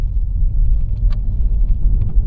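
A Ford Mondeo ST220 pulls away in first gear, its engine giving a steady, close, low rumble that holds level throughout, with no one talking.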